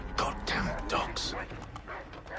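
Dogs bark in Assassin's Creed 3, a few sharp, close barks and yips in quick succession over a short burst, with a voice mixed in.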